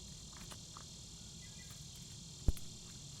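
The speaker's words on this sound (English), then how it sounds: "Cicadas." Cicadas drone outdoors in a steady, high, buzzing chorus that stays faint and constant, with a soft low background and a single brief knock near the end; no one speaks.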